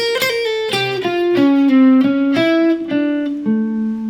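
Electric guitar lick in harmonic minor, played alone as a run of clear picked notes that step downward and ring out, with dynamic, fairly quiet attacks.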